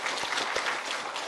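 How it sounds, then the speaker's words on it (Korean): A short burst of crowd applause at a Buddhist temple gathering in Korea, dense clapping from many hands, fairly close. "박수 한번"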